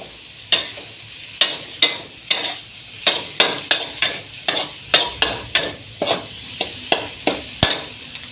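Fermented shrimp and egg are stir-fried together in a pan, with a spatula scraping in a steady rhythm of about twenty close, crisp strokes over a low sizzle.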